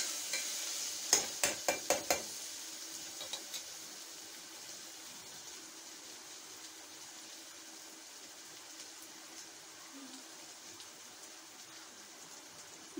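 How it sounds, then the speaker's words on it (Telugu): Masala for Hyderabadi bagara rice fries in a pan, opening with a quick run of sharp spoon scrapes and taps against the vessel before settling into a faint, steady sizzle that continues alone. "పచ్చి వాసన పోయే వరకు వేయించాలి"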